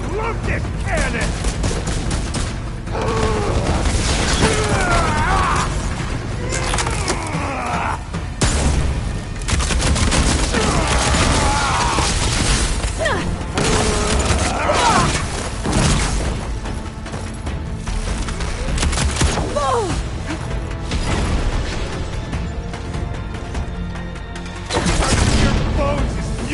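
Cannon firing in Horizon Forbidden West, repeated heavy booming shots and bursts of rapid fire over dense battle noise, loud and sustained, with voices speaking amid the chaos.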